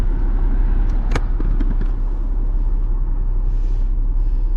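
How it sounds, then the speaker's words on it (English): Road traffic passes near a bridge in the woods as a continuous loud rumble of vehicles, with a brief sharp hiss like an air brake early on, steady throughout and without speech. "And it's crazy traffic, I swear."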